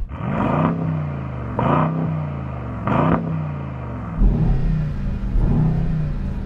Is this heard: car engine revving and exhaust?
yes